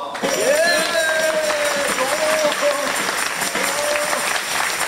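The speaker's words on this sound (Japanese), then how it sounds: "どうも拍手を。" Steady applause from an audience at a folk music festival finale fills the room, dense and continuous clapping with some crowd noise, lasting throughout.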